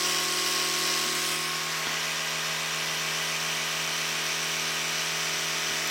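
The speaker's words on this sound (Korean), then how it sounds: "이렇게 칫솔질 해보죠" An Oral-B White 7000 electric toothbrush buzzes steadily and loudly close up while teeth are brushed, a continuous vibrating drone with no break.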